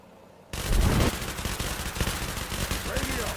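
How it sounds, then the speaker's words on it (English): Two machine gunners in the Quarantine Zone RTS game hose a perimeter with continuous automatic fire, a steady rapid clatter of shots that starts suddenly and carries on without pause. "These two machine gunners just hosing with the"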